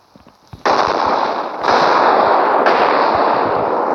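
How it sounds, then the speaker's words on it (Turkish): In a modded shooter video game, a thrown molotov cocktail bursts into a sudden loud whoosh and keeps burning as a dense, roaring crackle of flames, with a few faint knocks before it hits. "Sırada molotof var."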